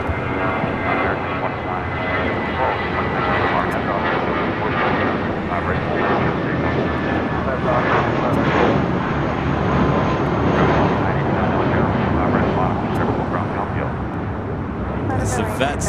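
Airbus A320 airliner in special blue livery at LAX, a steady broadband jet engine roar holding loud and continuous throughout, with faint talk underneath.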